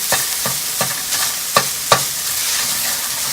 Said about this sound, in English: stir and cook this mixture and break down the big lumps so that a mince is really nice and even